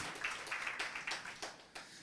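Scattered, fairly quiet clapping from an audience welcoming the final part of the Spanish-language talk series "Cree en ti", with sharp separate claps in an uneven rhythm and no voices over them.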